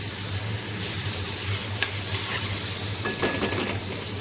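Eggplant frying in a hot pan makes a steady, close sizzling hiss throughout, with a few faint clinks of a utensil near the end.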